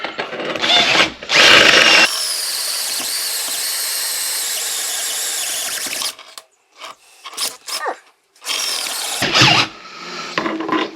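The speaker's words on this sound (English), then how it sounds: "I found a reamer bit big enough so that way now we can ream this out" A power drill fitted with a reamer bit bores out an alternator pulley from an Allis Chalmers 190XT tractor. It gives loud, high-pitched squealing bursts that stop and restart several times, with short silent gaps and no talking.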